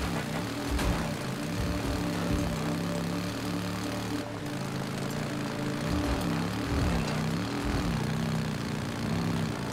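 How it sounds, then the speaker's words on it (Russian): Helicopters in the video game Days Gone, a continuous rhythmic rotor drone with a low pulsing thump, heard steadily throughout at a moderate distance, with no talk over it. "Опять вертушки."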